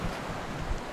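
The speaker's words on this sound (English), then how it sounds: "Hear the wake bubbling along nicely now." A sailboat's wake bubbles and hisses steadily along the hull while running wing on wing in light wind, with a soft wash of water and wind noise and no voices.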